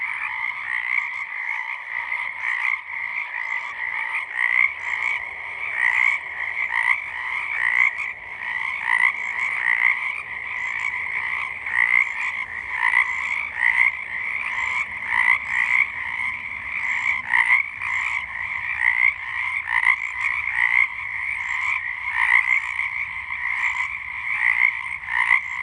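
Loud chorus of frogs croaking outdoors at night, a dense, continuous pulsing din that keeps up without pause from start to finish, close and almost deafening.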